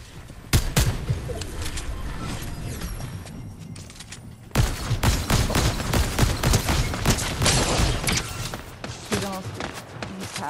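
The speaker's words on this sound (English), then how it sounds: "I hear their turret." An enemy turret fires in a video game battle, rattling out dense, continuous bursts of gunfire with booming impacts, loud and sustained, while players talk over it.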